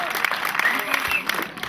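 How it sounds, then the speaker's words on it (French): Audience applauds a club member at a football club's 50th anniversary celebration, brief steady clapping with murmured voices underneath. "je crois qu'on peut vraiment l'applaudir"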